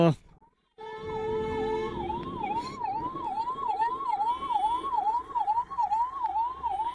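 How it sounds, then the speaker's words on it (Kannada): A loud ambulance siren wails in a fast, repeating rise-and-fall close by, over rumbling traffic noise, heard from a motorcycle on the road. "ಯಾವ್ದು ಗುರು ಇದು ಆಂಬುಲೆನ್ಸ್ ಹೋಗ್ತಿದೆ ಜಾಗ ಬಿಡ್ರಪ್ಪ"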